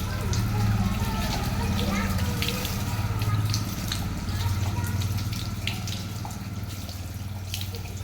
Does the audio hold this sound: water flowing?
yes